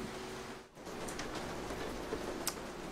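Steady rain hisses and patters continuously, with a few faint ticks of drops striking a nearby surface.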